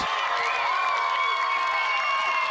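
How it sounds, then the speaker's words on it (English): A crowd at an ultimate frisbee game cheers and shouts excitedly, with high whoops and yells rising over a steady wash of voices. "Crowd going crazy."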